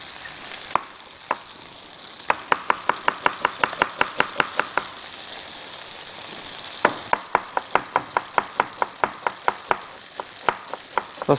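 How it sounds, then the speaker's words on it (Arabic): A knife chops onion finely on a cutting board, with quick regular knocks in two long runs separated by a short pause, crisp and close over a faint background hiss. "بدي بلش افرم بصل هلا لنحضر صوص البندورة"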